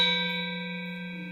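A single struck metallic note from a Balinese gamelan pair rings out clearly and fades gradually, its sustained tone carrying a gentle shimmering waver from acoustic beats.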